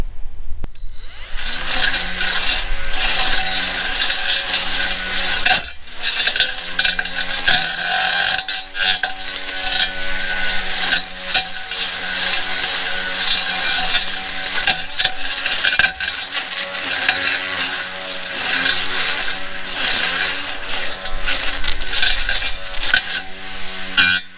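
A trimmer with a sharp cutting head tears through heavy weeds, giving a loud, sustained buzzing drone with rough chattering and brief dips in pitch as it bites into thick growth, close by and with no talk.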